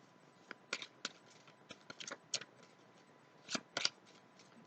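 Tarot cards are shuffled in a quiet room with scattered crisp riffles and slaps, some single and some in quick clusters, close and soft with no voices.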